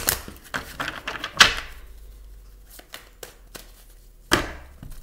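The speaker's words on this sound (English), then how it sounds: "I'm gonna just shuffle a few more times" Playing cards are shuffled in short riffling bursts with sharp flicks and taps, close by and fairly quiet.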